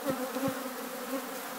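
A steady, even drone of honey bees buzzing at an apiary holds throughout, a dense hum with a couple of faint low knocks near the start.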